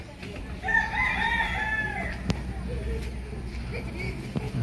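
A rooster crows once in a long drawn-out call, fairly close, over a steady background hum with faint chatter.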